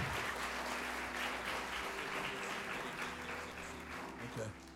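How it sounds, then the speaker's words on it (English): Church congregation applauding new members during a worship service, a steady wash of clapping held at even strength for several seconds, fading slightly near the end, with a faint low hum beneath. "Let's give our new members a hand clap of praise."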